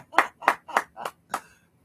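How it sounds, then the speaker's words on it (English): Five hard, sharp hand claps ring out close and loud at a steady pace, with a slightly longer gap before the last one, and no talking. "They get my standard hard clap."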